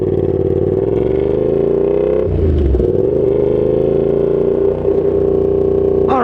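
A Yamaha FZ-07 (MT-07) motorcycle fitted with a Danmoto XG-1 full exhaust system drones loudly and steadily while riding, with a short throttle change partway through and no talking.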